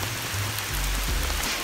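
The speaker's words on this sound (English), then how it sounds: "Somebody's got me working out here in the rain." Heavy rain pouring outdoors during lawn mowing and yard cleanup work, a loud, dense, continuous hiss of falling water close by with no speech.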